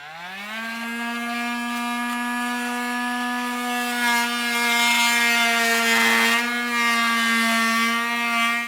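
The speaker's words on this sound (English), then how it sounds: "I'm using a multi-tool" An oscillating multi-tool cuts through a plastic panel on a 2024 Cadillac Escalade during a base plate install, a loud, steady buzzing whine that holds its pitch for several seconds with slight shifts as the blade bites.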